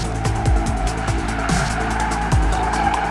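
A stock Audi car accelerating hard with tires squealing, engine harmonics rising and a short squeal bursting out twice over a steady close engine roar, with no talk.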